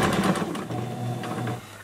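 Sewing machine stitching through a fleece scarf, a steady close mechanical whir with rapid needle clatter running nearly the whole time, easing off briefly near the end.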